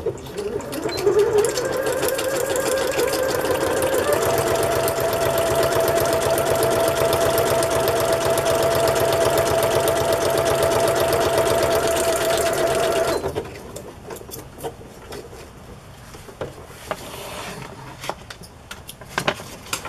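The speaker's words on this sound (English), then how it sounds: "Let's do the zigzag stitch." A sewing machine runs steadily for about thirteen seconds, stitching a zigzag seam to attach a small flashcard to a fabric flap of a journal, then stops abruptly, leaving faint handling noises.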